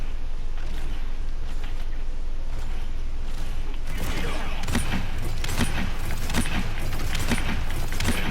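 Drogoz weapon shots in the video game Paladins, a run of repeated loud bursts over continuous game noise and effects, growing denser in the second half.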